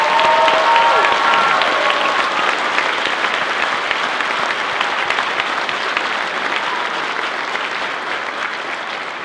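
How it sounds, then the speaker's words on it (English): A school concert audience at a middle school honor band performance applauds the music teachers, a loud, dense, sustained wash of clapping from a large crowd that tapers only slightly toward the end. "Will you please give one more round of applause to all of the teachers that put all of the hard work in every day."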